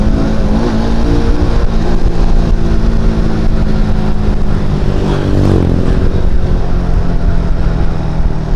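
Motorcycle engine revving hard during a morning breakfast ride on Marcos Highway, a loud continuous roar with a rising pitch sweep midway, steady and close throughout with no talk.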